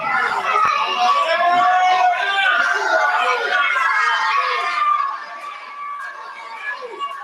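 Wrestling crowd inside a public hall in Witham during a live show, a sustained roar of cheering and chatter with some shouts, loud at first and then easing slightly.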